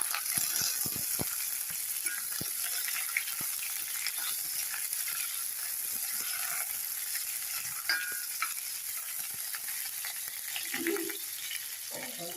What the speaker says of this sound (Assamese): এতিয়া পিঁয়াজখিনি ভাজি লওঁ এনেকুৱা কৰি।